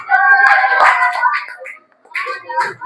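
A class gives group 1 another round of clapping in an Indonesian school lesson, brief hand claps blended with overlapping talk, pausing briefly before voices and claps resume.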